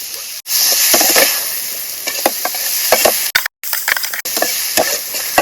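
Tomato and spices go into a hot frying pan at a night campsite, sustained loud sizzling with repeated scrapes and clicks of stirring, broken by a brief silent gap.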